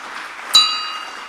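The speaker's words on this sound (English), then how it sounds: "Frank Yoke rings the bell." A single bright bell strike rings out at a Rotary club meeting, a sharp ding whose tone lingers and fades over about a second against a low murmur of room noise.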